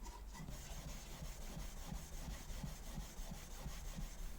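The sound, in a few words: steel wool scrubbing rust off an old bayonet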